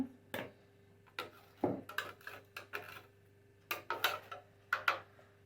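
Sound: grating fish cutlet ingredients on a fine grater

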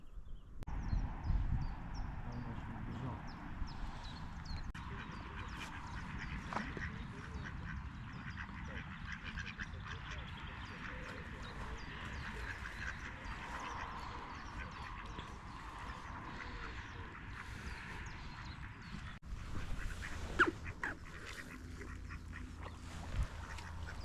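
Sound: ducks quacking by a pond

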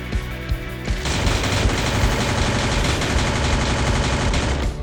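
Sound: gunfire in Free Fire video game

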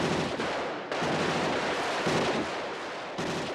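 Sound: gunfire in the film RoboCop

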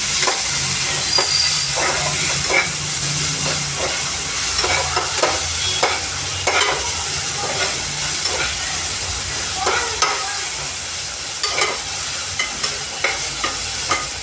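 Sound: sautéing ginger garlic paste in a pan

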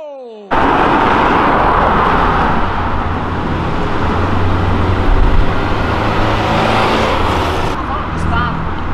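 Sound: Jetta GLI stage 4 car engine revving

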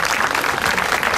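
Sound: audience applause after karate demonstration

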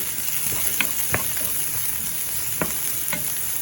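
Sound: onions, dried chilies and curry leaves frying and being stirred

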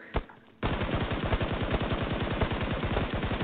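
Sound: gunfire in the video game Peacekeeper Elite

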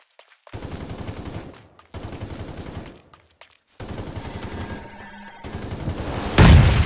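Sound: gunfire in video game

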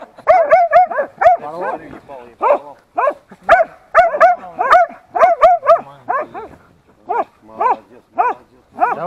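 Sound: laika hunting dogs barking at a badger

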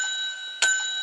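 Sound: bell ringing

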